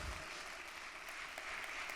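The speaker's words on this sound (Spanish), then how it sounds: "Aplaude al Señor." Applause from a church congregation during a sermon, a steady even patter of clapping that fills the space for a short stretch without voices over it.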